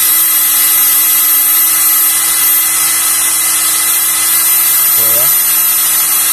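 A Kamolee DTW 700NM impact wrench, standard version, runs steadily at speed with a constant high-pitched motor whine and no pauses, and a voice speaks briefly near the end.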